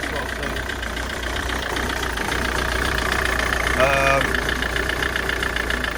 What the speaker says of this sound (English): It's almost running. You can see how rough it sounds, yeah? It's obviously like this firing sort of thing.